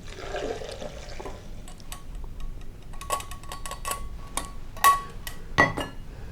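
Freshly made juice poured into a green drink: faint liquid trickling and splashing with several sharp glassy clinks and taps, including two louder knocks near the end, over a quiet background.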